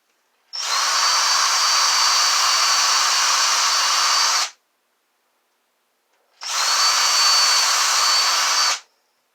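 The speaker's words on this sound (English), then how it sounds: "And then hopefully I can drill these holes." A power drill whirs loudly in two long, steady bursts, about four seconds and then two seconds, separated by a short silence.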